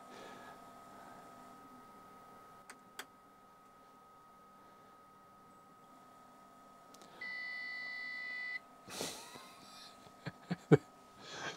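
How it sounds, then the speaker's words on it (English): A TRS-80 Model 4P computer gives a steady electronic beep lasting about a second and a half, heard alone in a quiet room with a few faint clicks before it and some handling noise after. "Now it's beeping at me."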